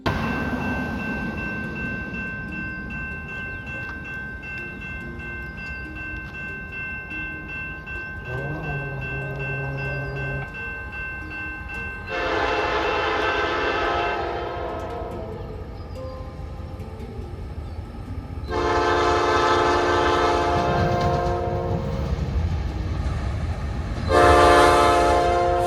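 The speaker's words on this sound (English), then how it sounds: "I initially didn't know what type of horn this was." A CN freight train rumbles past in Valparaiso, Indiana, while its horn sounds in several long blasts, growing louder toward the end.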